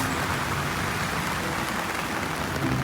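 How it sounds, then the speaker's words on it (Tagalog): Heavy rain pours steadily and loudly near a mall in New Westminster, a dense, continuous hiss of drops with no talk over it. "Grabe yung lakas ng ulan."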